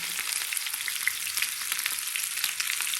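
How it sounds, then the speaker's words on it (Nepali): Potatoes frying in a pan for a potato and beaten-rice snack, a steady dense sizzle with small crackles throughout, close and alone with no voices. "बिस्तारै आलुको फ्राई भइरहन्छ"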